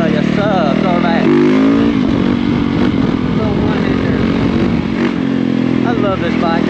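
Yamaha YZ450F dirt bike engine revving and droning loudly and close throughout, pitch rising and falling as the rider works the throttle, with a voice talking over it.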